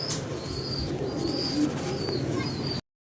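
A pigeon coos nearby in a series of low, throaty calls with a steady rhythm, while fainter bird chirps sound in the background.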